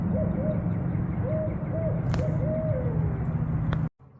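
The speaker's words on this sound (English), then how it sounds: "Tell me you just heard that owl." An owl hoots several times, soft and distant, at Green Lane Park near the water. The low calls repeat unevenly over a steady outdoor rumble, and the sound cuts off abruptly at the end.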